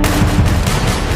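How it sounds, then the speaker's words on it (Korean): A loud, dense burst of gunfire from the Korean drama Moving, heavy rapid shots blending into a continuous roar over about a second. "이때 날아오는 총알."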